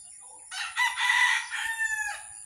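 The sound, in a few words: rooster crowing, backyard chickens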